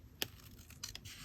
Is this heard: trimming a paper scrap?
yes